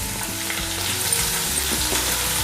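Onion, ginger and garlic frying in a hot pan for horse gram sambar, a steady dense sizzle that holds loud and unbroken throughout, with no voices.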